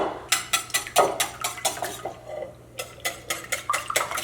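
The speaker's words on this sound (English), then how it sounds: "we start with the liquids first, mix up the liquids first" Liquid ingredients for Italian egg biscuits are mixed in a bowl, producing a quick steady rhythm of close utensil taps against the bowl, with one brief pause partway through.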